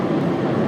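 A Qatar Airways airliner arriving from Doha at Washington Dulles makes a steady, loud jet roar on a cloudy day, heard only for a moment.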